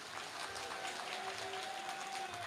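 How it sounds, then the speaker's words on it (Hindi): Faint, steady clapping comes from an audience at an outdoor farmers' gathering in Uttarakhand. It sounds distant and continuous for a couple of seconds, with no clear talk over it. "यदि तैयार हैं तो जरा ताली बजा करके हाँ कहिए।"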